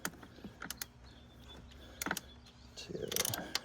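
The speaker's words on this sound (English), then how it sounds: "Just wanted to make sure we had the torque wrench set properly." A torque wrench clicks and ratchets while tightening bolts on a 2006 Volvo S60 T5 engine during water pump and VVT cap work, giving a few sharp mechanical clicks spread through the clip over a quiet background.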